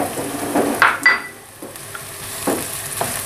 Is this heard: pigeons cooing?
no